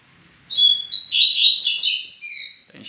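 A coleiro songbird (Sporophila caerulescens), kept loose in a room, sings a loud, close run of bright chirps and warbled phrases for about two seconds with no other sound.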